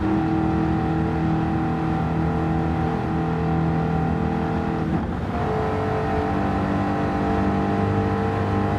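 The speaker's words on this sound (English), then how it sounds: "That was a supercharger, by the way." A car with a supercharger accelerates in the Gran Turismo 7 racing game, its steady engine drone layered with rising whine tones, loud and continuous throughout with a brief shift in pitch midway.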